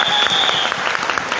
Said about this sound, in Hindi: मैं चाहूंगा एक बार बिहार के लिए जबरदस्त ताली बजाएं।